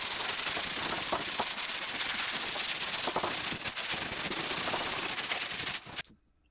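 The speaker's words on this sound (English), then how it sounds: "and sanding again." Sanding on a part for a home-built sailing Pacific proa, a dense continuous abrasive rubbing that runs steadily for about six seconds and then stops abruptly, close and fairly loud with no talk.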